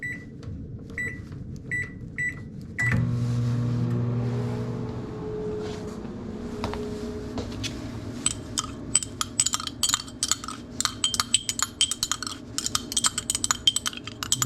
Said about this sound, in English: put it into a microwave oven at first.